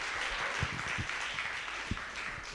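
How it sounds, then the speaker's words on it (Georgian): Applause fills the hall at a ceremonial fight weigh-in, a dense, steady wash of clapping from a crowd, fairly distant with a few low thumps. "აპლოდისმენტები მეგობრებო"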